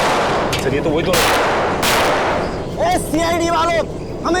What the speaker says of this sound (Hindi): संभाल के गोली चलाना, काफी लोग हैं यहाँ।